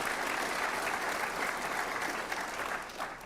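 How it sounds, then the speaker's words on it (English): An audience at the Rice Business Plan Competition gives the official accountants a round of applause, with dense, steady clapping that fills the room throughout. "How about a round of applause for our official accountants of the Rice Business Plan competition?"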